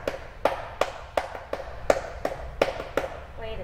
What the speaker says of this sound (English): Here's the beats of the claps at the end of the cheer.